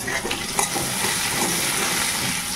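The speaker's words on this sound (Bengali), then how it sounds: "এবার এই হলুদ নুন দিয়ে একটু ভালো করে লাল করে ভেজে নেবো" Food frying with turmeric and salt in a pan gives a steady, close, loud sizzle throughout, with a few light scrapes of stirring. There is no talking.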